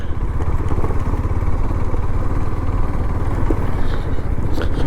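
A motorcycle engine drones steady and close while riding the rough Leh-Manali highway, a continuous rumble with clattering over broken road and no speech.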